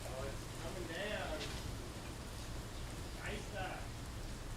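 Steady rain comes down in a continuous hiss near a warehouse, with faint voices talking under the downpour.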